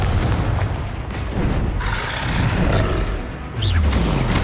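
A Confringo fire spell blasts in Hogwarts Legacy amid a dense, continuous roar of booming battle effects, with a short whooshing sweep near the end.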